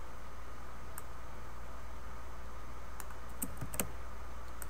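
Someone types on a computer keyboard, a short, quiet burst of key taps near the end after several seconds of faint background hiss.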